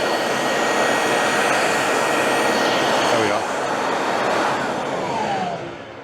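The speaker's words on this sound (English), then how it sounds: "turn it on, and you've got a blower" An EGO cordless wet and dry vacuum is switched to blower mode and gives a loud, steady roar of rushing air close by. The roar holds evenly, dips slightly partway through, then fades as it winds down.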